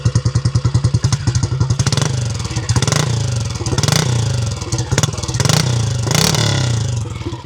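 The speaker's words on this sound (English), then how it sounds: "And it's got a nice little bark as well from the exhaust." A 1970 Triumph Trophy 250 TR25W single-cylinder motorcycle runs close by, its exhaust barking in a rapid pulsing idle that rises into repeated loud revs and falls back, with no talking.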